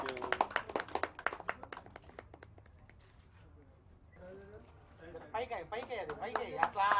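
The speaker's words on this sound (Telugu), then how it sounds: "చప్పట్లు కొట్టండి." An audience clapping at a film logo launch event, a nearby burst of scattered hand claps that thins out and then picks up again as voices talk over it.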